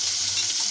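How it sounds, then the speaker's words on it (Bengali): Shrimp frying in a pan ahead of cooking with bottle gourd, a steady close sizzle holding level and unbroken for the whole short moment with no voices. "এই চিংড়ি মাছ দিয়ে লাউ রান্না করবো, একটু ভেজে নেই, ভালো করেই ভাজবো।"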